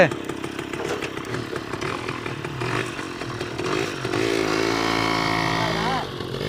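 A modified TVS 50 motorbike engine runs close by with a raspy, buzzing drone that rises and revs through the middle, while people talk over it.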